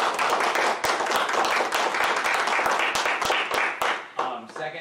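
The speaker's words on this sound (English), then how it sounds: "Another round of applause for them." An audience at a school open house claps steadily for a violin performance. The dense applause holds throughout and tapers off near the end.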